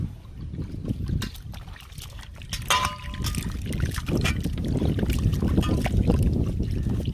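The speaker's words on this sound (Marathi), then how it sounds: "तर मस्त कोळंबी पण धुवून घेऊ आपण." Prawns being washed in water, with close sloshing, splashing and trickling that goes on throughout alongside a few light clinks.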